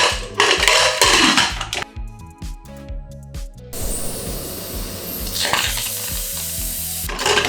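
Vegetables are stirred in a cooking pot for homemade vegan dog food, with loud close sizzling and scraping at the start, clattery pot sounds in the middle, and more sizzling stirs toward the end.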